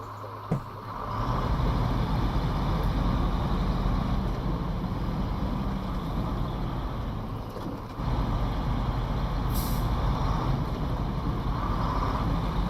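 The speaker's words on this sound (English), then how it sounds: "considering this truck is only designed to drive on roads, it's doing remarkably well" Truck in the SnowRunner video game, a road-only model, driving off-road with a steady, continuous engine drone and rumble that runs throughout, briefly dipping then resuming near the end.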